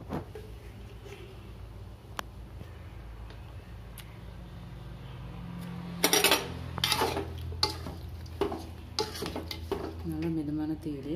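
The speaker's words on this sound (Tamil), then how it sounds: "நல்லா கலக்கி கலக்கி கொடுங்க" Lemon pickle with chilli powder being stirred in a pan over medium heat, a steady scraping and stirring with louder clattering strokes in the latter half, faint background hum throughout.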